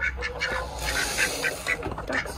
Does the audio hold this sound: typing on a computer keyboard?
no